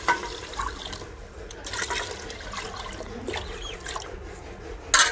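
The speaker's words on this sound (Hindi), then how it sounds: "अब पानी डाल के राइस डाल दो" Water is poured into a cooking pot for a village-style pulao, giving a steady splashing trickle at close range that stays fairly even and ends with a brief louder splash.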